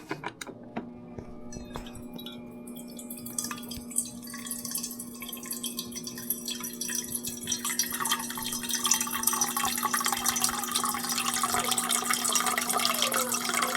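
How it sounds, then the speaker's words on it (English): A weak, low-pressure stream from a refrigerator water dispenser trickles into a 24-ounce bottle, the filling sound close and continuous, growing fuller and louder as the bottle fills. "My water stream for this refrigerator is so low."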